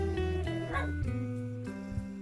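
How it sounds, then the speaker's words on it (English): A friendly pet dog yips and barks indoors, a few short high barks with a whimpering tone, close and fairly clear. "I apologize for my friendly dog"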